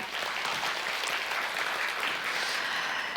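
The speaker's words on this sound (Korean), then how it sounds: "다시 한번 뜨거운 박수 부탁드립니다" Continuous applause from a seated audience after a lecture at a business session, dense steady clapping that fills the room at an even level from start to end.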